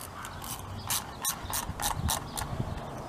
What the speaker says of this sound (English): Use an 8mm socket or a flathead screwdriver to go ahead and tighten that down.